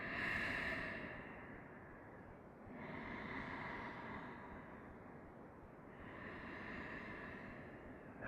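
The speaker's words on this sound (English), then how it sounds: "Inhales through the nose. Exhales out the nose." Slow nasal breathing in a quiet room, a long inhale followed by a drawn-out exhale through the nose, repeating in a steady cycle, soft and close.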